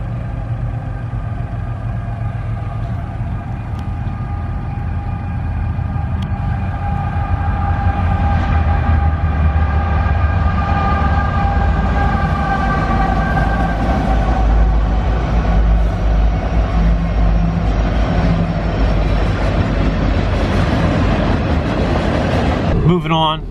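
A train rumbles past nearby for a long stretch, a steady heavy roar with clattering wheels and a tonal horn-like hum, voices faintly underneath.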